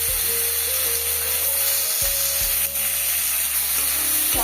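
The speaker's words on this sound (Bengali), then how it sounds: "রসুনটা হালকা ভাজা ভাজা হয়ে যাওয়ার পর এবার টমেটোটা তুলে দিলাম" Tomato dropped into hot oil with lightly fried garlic paste sizzles steadily and loudly, a continuous close frying hiss with a few stir clatters and no talking.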